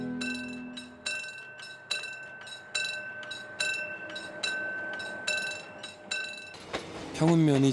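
A train runs past Pyeongeun station, a small rural stop in Korea that opened in 1941 and is closing for a dam. It gives a rhythmic clacking with a ringing metallic tone, then a voice briefly at the end.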